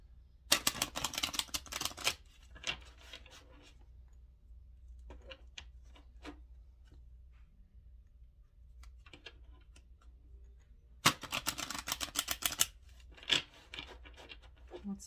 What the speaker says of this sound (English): Let me just shuffle these three times.